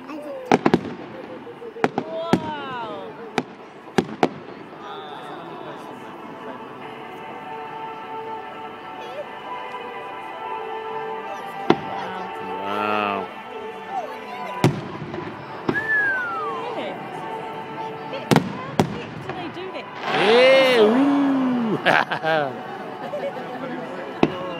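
Fireworks display at the Rotorua Speedway, with repeated sharp bangs and crackling bursts echoing at a distance over a chattering crowd, including a louder cluster of explosions and whistles near the end.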